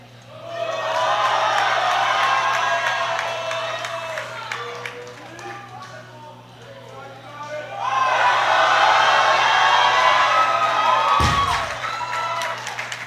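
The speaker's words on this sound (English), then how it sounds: "with a roar from the crowd" A powerlifting crowd at a world junior championship roars and cheers after a record lift, loud cheering and whoops in two big swells with applause.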